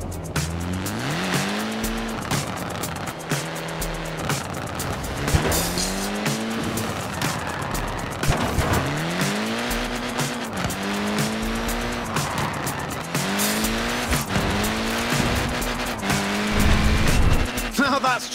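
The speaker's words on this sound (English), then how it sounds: "Look at that, laying down some rubber there." A Mini laying down rubber in Forza Horizon 4, its small tyres squealing in long pitched wails over a steady, loud engine drone, repeated skids sweeping up and down throughout with no talking.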